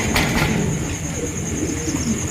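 Pigeons cooing in a loft of fancy breeds, soft low throaty coos repeating close by over a steady background hiss.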